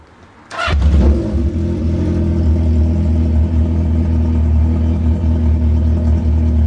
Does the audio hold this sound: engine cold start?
yes